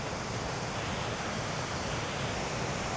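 Steady, continuous roar of ocean surf breaking on a tropical beach beside cliffs at Karon Beach, Phuket, a broad even wash of waves throughout with no voices.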